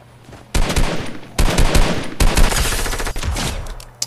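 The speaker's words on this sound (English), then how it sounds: "I'm just gonna shoot you down" Loud bursts of automatic gunfire in the Fortnite video game, three or four long volleys with short gaps, close and dominant with no talk.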